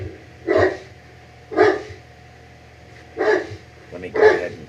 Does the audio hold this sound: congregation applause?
no